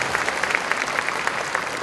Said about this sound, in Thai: ขอปรบมือขอบคุณท่านวิทยากรนะครับ